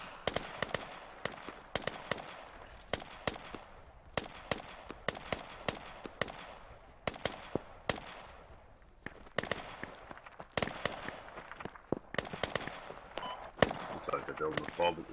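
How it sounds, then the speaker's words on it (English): Gunfire in the tactical shooter Squad, sharp repeated shots in bursts and single cracks at varying distances, fairly quiet overall, with players talking over it. "The guys behind me in the other squad are shooting at me."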